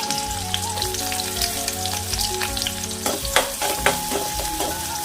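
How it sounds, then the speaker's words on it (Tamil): Small shallots and fennel seeds sauté in a hot pan, giving a steady sizzle with crackling pops and occasional stirring scrapes, close and continuous. "கொஞ்சமாக பெருஞ்சீரகம், அதோட நறுக்கி வச்சுருந்த சின்ன வெங்காயத்தை போட்டு நல்லா செவக்க வதக்க வேண்டியது"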